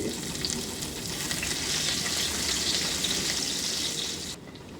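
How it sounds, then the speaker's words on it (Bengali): Quarter of an onion and two garlic cloves frying in oil in a pan, a steady close sizzle that holds throughout and drops away abruptly near the end, with no talking. "অল্প একটু পেঁয়াজ মানে এক পেঁয়াজের চার ভাগের এক ভাগ আর দুই কোয়া রসুন একটু সামান্য ভেজে নিব এগুলো"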